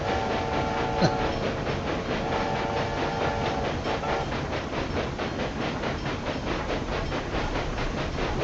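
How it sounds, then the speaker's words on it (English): Steady rumbling steam train noise from the video game Railway Empire 2, with rhythmic clatter and a brief tonal horn-like sound appearing twice, continuous and moderately loud throughout. "that's the train approaching."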